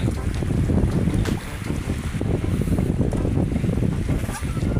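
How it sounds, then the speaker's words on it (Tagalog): Strong wind roars into the microphone over open water at sea while fishing, a constant heavy rumble with faint splashing of whitecapped waves beneath it. "At medyo malakas talaga ang hangin"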